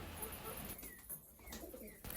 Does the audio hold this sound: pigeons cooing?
yes